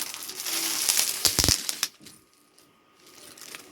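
Plastic packaging around a Kelly-style leather bag cut and pulled open, a burst of crinkling and crunching with a few sharp snips, then quiet with faint rustles, close.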